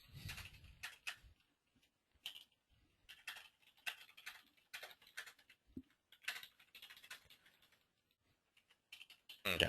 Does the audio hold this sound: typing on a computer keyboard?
yes